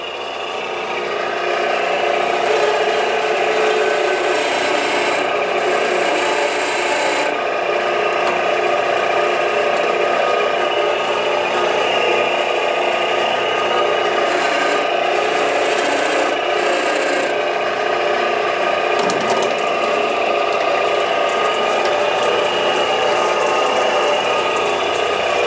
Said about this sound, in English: turn the press on. Very slowly feather in your pump